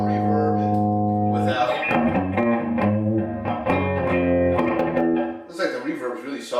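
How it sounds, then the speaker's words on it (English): A Randall RG75 guitar amplifier with its reverb turned up plays chords and single notes that ring out and blur into a lingering wash, loud and close. "that's with all the reverb"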